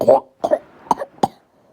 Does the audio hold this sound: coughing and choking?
yes